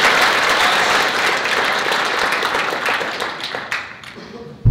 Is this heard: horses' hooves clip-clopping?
no